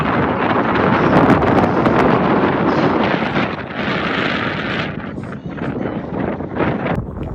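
Wind gusts buffet the microphone in a garden near Marriott Boulevard in Baku, a loud, rumbling roar that swells and eases across several seconds without talking.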